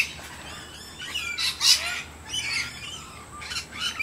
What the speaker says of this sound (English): there are lots of birds.